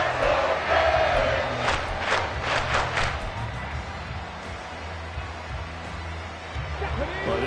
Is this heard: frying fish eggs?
no